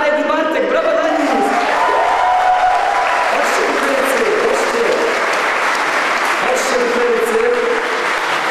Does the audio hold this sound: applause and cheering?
yes